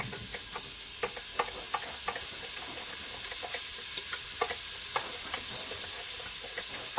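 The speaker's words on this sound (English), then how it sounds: "once oil is hot, add garlic and, add in the chopped onion and spring onion whites" Chopped onion and garlic sizzle in hot oil in an Instant Pot: a steady hiss runs throughout, punctuated by regular light ticks and stirring clicks, no speech.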